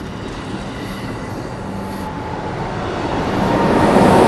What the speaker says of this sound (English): That's an SC44 Siemens charger 2107.